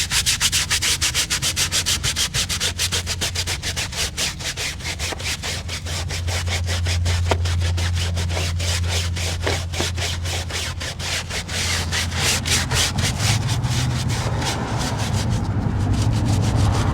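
Brush scrubbing a wheel and tire coated in Armour Detail Supply wheel and tire cleaner, a loud continuous rapid back-and-forth scrubbing rasp that runs steadily without pause.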